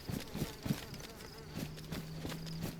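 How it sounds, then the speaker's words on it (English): A fly buzzes in the DayZ video game, a thin steady drone entering partway through, heard alongside a rhythm of heavy footsteps. "It sounds like the not dead body type of fly. That's a fly, it's not a bee."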